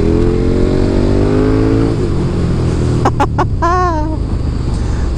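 A KTM Superduke 1290 R motorcycle accelerates in third gear, its engine roaring loud and close with a rising pitch, then settling into a steady drone as a few sharp higher tones cut in briefly near the end.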